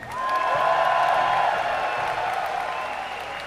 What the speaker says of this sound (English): give a cheer for EGHuk!